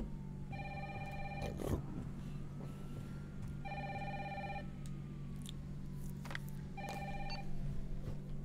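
An in-game telephone in Resident Evil 3 remake rings in three evenly spaced bursts over a low background hum, with faint clatter between rings.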